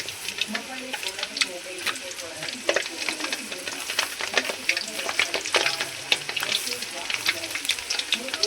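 Garlic frying in a pan for tamarind rice, a bright crackling sizzle with scattered pops and scraping stirs close by, continuing steadily over several seconds with a voice speaking now and then.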